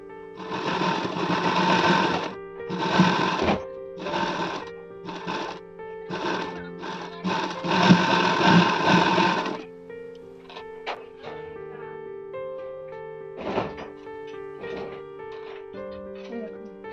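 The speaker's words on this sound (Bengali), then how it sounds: "এখানে কিন্তু আমরা ডবল সেলাই দেবো।" A sewing machine stitches a double seam on a princess-cut blouse in loud, rapid bursts of whirring needle strokes separated by short pauses, followed by quieter, sparser clicks and tones.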